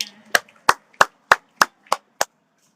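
Audience at a product launch clapping in unison, seven sharp, evenly spaced claps in a steady rhythm, close and clear with quiet gaps between them.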